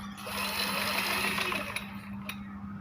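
A sewing machine stitches the shoulder and neckline seam of a garment, running steadily with a continuous whirring hum, close and alone, easing off toward the end with a couple of light clicks.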